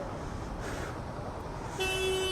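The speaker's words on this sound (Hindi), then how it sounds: "ये तो पीछे से हॉर्न बजाते हैं ना भाई" A vehicle horn gives a steady toot near the end, standing out over a low traffic rumble, heard from a Yamaha R15 motorcycle stopped at a red light.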